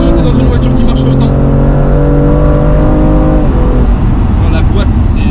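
A BMW M2 Competition's engine pulls hard under acceleration from inside the car, a loud steady drone that rises in pitch, then drops away near the end.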